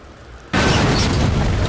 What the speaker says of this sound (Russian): О, баллон взрывающийся.